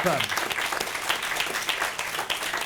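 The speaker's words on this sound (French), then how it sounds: "On peut applaudir encore une fois nos Sabientoni de ce soir, les amis de la Falep." Steady audience applause at a live evening show in Corsica, many hands clapping together continuously and fairly loud throughout, with no voices rising above it.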